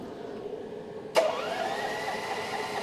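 A small engine with its choke pulled cranks without starting: a sudden sharp burst followed by a steady mechanical whirring drone, close and fairly loud.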